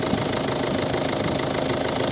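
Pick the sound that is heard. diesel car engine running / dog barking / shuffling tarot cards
diesel car engine running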